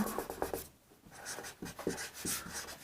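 Chalk or marker strokes scratch across a board while math is written in a Hindi-medium Class 10 lesson, a steady run of short scraping strokes with brief pauses, close and fairly quiet with no talk.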